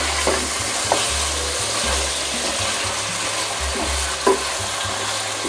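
Chicken pieces frying and being stirred in a pan for pulao biryani, with steady close sizzling and periodic spoon scrapes, no talking.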